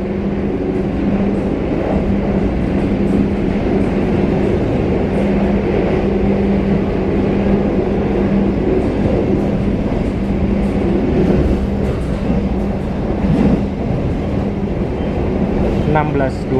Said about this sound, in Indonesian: Kereta api Argo Bromo Anggrek persiapan masuk ke daerah operasi 1 Jakarta.